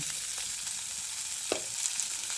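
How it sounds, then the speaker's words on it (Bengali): Drumstick (sajna) stalks fry lightly in a pan with a steady, soft sizzle, one brief louder crackle standing out midway; no one speaks. "দেখুন সজনের ডাঁটাটা একটু হালকা করে ভেজে নিয়েছি"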